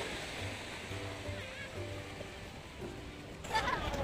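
Sea waves wash continuously at Mae Ramphueng beach in Rayong under a cloudy, rainy sky, a soft, distant surf hiss that grows briefly louder near the end, with a voice talking over it.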